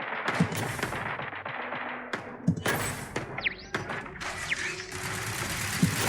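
Turret gunfire in Starfield, heard as repeated sharp broadband bursts and thuds, some close and loud, spread unevenly across the stretch over a steady background of game noise.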